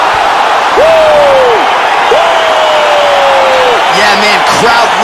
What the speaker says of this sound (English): Man, crowd loving it.